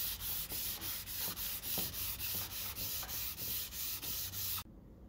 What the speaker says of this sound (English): I finished sanding it with 800 grit.